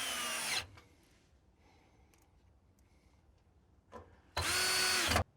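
A power drill drives screws through the brackets of an Electrolux front-load laundry pedestal, with two loud close whirring bursts of high-pitched motor whine separated by a quiet pause.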